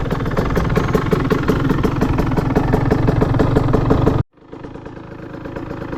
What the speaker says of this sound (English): Starts up quick and it rides as it should, just like that.